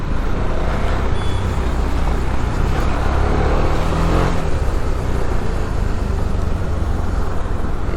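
A KTM Duke 390 motorcycle riding along a road, heard as a steady, loud engine drone mixed with heavy wind rush that continues unbroken the whole time; no talking.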